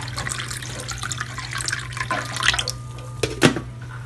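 Close-up splashing and trickling as cold water is poured into a jar of tamarind-spiced pani puri water, irregular gurgles and drips with a louder splash near the end, over a low steady hum.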